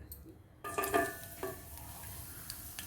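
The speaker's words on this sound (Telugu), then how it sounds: "ఇప్పుడు దాని తర్వాత ఎల్లిపాయలు వేయండి ఒక పది పన్నెండు ఎల్లిపాయలు కొంచెం కొట్టుకొని వేసుకోవాలి" Crushed garlic cloves dropped into a little hot oil for a Telangana-style pappu charu tempering, bursting into a quiet sizzle after a short pause, with faint utensil scrapes and no voices.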